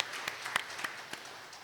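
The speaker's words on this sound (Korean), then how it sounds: "하나님의 영광에 박수 드리겠습니다." Sparse, faint applause from a church congregation during a Sunday service: a few scattered claps in quiet room tone, with no clear voices.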